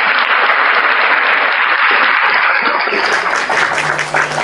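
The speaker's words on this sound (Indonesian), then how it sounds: "Kita tepuk tangan dulu." A seated audience bursts into loud, dense applause that holds steady for several seconds before thinning slightly, with a faint hum or tone appearing near the end.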